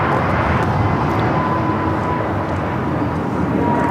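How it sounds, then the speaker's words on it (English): A Frontier Airbus A320neo airliner taking off, a steady, loud, broad jet roar that holds evenly throughout with no talk over it. "taking off to Salt Lake City on this A320 Neo Frontier 1268"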